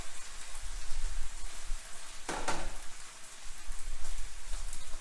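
Wine boils off in a hot pan for a chicken stew (poulet basquaise), giving a loud, dense, continuous crackling sizzle with one brief sharp burst partway through.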